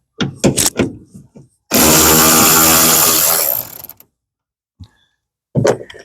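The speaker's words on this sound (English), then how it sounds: "I have my Milwaukee grinder." A Milwaukee angle grinder cuts during work on 2020-2022 Ford F250 LED taillights, a loud steady whine lasting about two seconds, set between clanks and handling noises.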